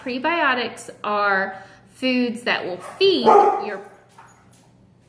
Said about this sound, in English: Sorry, that was just my dog.